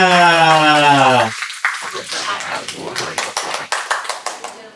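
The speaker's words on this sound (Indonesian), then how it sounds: "Tepuk tangan semuanya." A crowd of creators at a TikTok content-skills event on a rooftop in Jakarta breaks into scattered, moderately loud hand clapping right after a sustained tonal sound fades, the claps continuing unevenly to the end.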